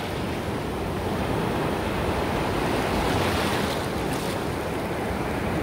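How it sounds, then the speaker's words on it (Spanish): Sea waves wash onto the shore at Garita Palmera in a continuous, loud roar of surf with a gentle swell in the middle, heard alone without voices. "ese es el sonido hermoso de lo que hace nuestro hermoso mar"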